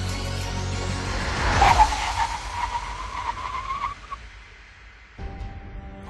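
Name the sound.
BMW 5 Series emergency braking from 100 km/h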